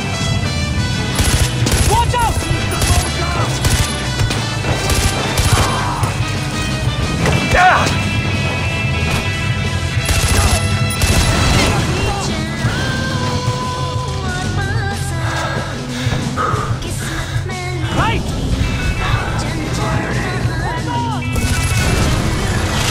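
Bursts of automatic gunfire and single shots ring out repeatedly in Far Cry 4, loud and dense with crashes and impacts mixed in, while players talk over the action.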